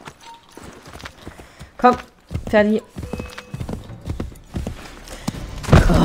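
Horse hooves clip-clopping in the video game Assassin's Creed III, irregular clatters at moderate distance mixed with a whinny-like cry and game noise, while someone talks over it.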